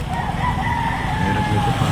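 Chickens heard close by with a rooster crowing, a drawn-out crow running through the short stretch over low background rumble.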